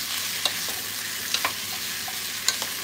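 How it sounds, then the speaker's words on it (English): Salchichón, ham and onion stir-frying in oil, a steady hiss broken by a few sharp metallic clinks of a utensil against the pan, with no one talking. "So we're gonna like stir fry these up."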